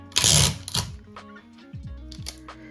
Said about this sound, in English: and secure with tape.